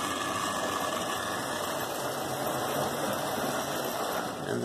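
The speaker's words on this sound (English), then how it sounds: "he's coming up chugging up the gradient into the station" A model railway train climbs a gradient into a station in a loft layout, giving a steady, close, continuous whirring mechanical drone that holds an even level throughout without any voices.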